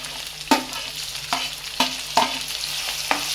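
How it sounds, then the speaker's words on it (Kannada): Tomato frying in oil in a pan for a banana flower palya, a loud steady sizzle broken by four or five sharp scraping knocks of stirring, with no voices. "ಚೆನ್ನಾಗಿ ಫ್ರೈ ಮಾಡಿಕೊಂಡು ಟೊಮೊಟೊ ಹಾಕ್ತಾಯಿದ್ದೀನಿ ಈಗ"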